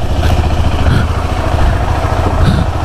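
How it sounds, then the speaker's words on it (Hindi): A superbike's engine runs steadily just after a cool start in early morning, a loud close idle rumble with slight rhythmic pulses and faint revving swells. "बाइक अपनी पूरी तरह कूल स्टार्ट हो गई है"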